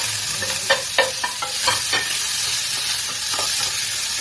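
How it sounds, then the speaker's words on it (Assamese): Onions sizzle in hot oil while a utensil stirs and scrapes the pan with a few sharp clinks. "এইখিনি গৰম হ'ল, পিঁয়াজখিনি ঢালি দিছোঁ।"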